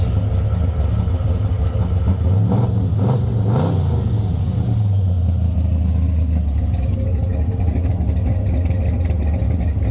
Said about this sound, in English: Let me see if I can rev it a couple times and get you guys a little bit of this note.